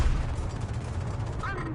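A dull, rumbling explosion in War Thunder, heavy low-end boom and crackle sustained close by, with no voices.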